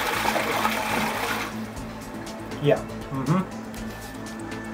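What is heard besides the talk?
New Zealand toilet flushing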